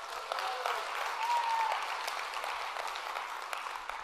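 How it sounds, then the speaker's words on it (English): Sustained applause from a sizable audience, steady and moderately loud, with a few faint whoops rising above the clapping. "Give yourselves a round of applause"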